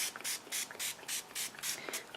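Short, even bursts of Glimmer Mist sprayed onto paper inside a misting box, about eight hissing pumps in quick rhythmic succession, close and alone.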